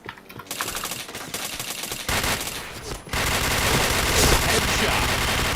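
Rapid automatic gunfire from the Point Blank shooter game, dense sustained bursts filling the whole stretch and growing louder and steadier in the second half.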